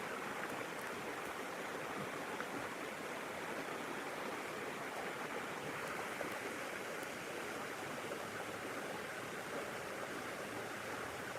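The Polwatta river in Sri Lanka flowing past, a steady, even rushing and babbling wash of water that holds constant throughout without pauses.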